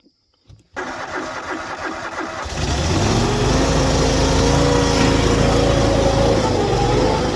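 An old John Deere lawn mower engine cranks briefly and then catches, settling into a loud, steady idle close by.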